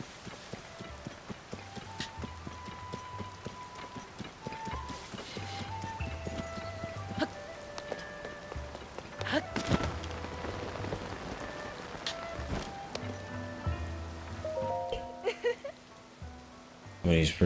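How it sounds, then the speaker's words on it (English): Steady rain falls in the Kakariko area of Legend of Zelda: Tears of the Kingdom. A constant patter continues throughout, with rhythmic clopping footsteps and occasional soft tonal game sounds layered on top. "Oh my god, when it's raining too."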